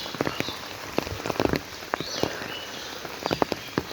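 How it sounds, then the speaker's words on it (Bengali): Heavy rain falling outdoors in Bangladesh, a constant hiss of downpour with irregular louder splashes and drips striking nearby surfaces, no talking. "সকাল থেকে বৃষ্টি পড়তেই আছে"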